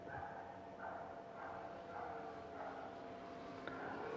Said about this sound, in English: it seems I could hear a yapper of a dog